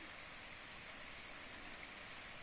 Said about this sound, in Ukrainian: Отак у нас цілий день іде дощ.